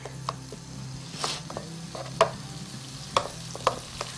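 Onion and tomato soften in a pan for baingan bharta, a quiet steady sizzle under scattered spoon scrapes and taps against the pan, with a few sharper clinks.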